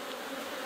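Honeybees hum in a dense, steady buzz from an opened beehive during a hive split, the swarm drone close and continuous with no pauses or talking.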